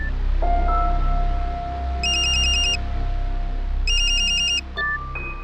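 A telephone rings with two bursts of an electronic ringtone over a steady low hum, as a call is placed to a doctor, followed by short tones at the end.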